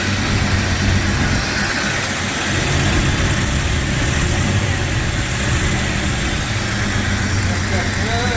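1996 Jeep Cherokee engine idles smoothly and steadily after a timing chain repair, a close, constant low rumble heard beneath people talking.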